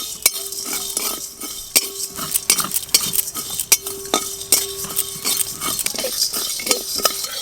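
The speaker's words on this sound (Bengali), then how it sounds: "এই সব কিছু গোটা মশলা শুকনো কড়াই একটু ভালো করে ভেজে নেব" Whole spices including cinnamon and black cardamom dry-roasting in a dry wok, stirred with a metal spoon that scrapes and clinks in quick irregular strokes over a faint crackle, close up, no talking.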